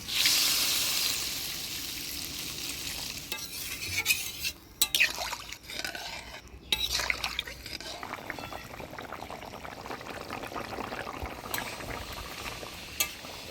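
Spoon scraping and stirring potato and pointed gourd with fried spice paste in a pot, with splashy liquid poured in partway through and a bubbling simmer; brief voice sounds in between.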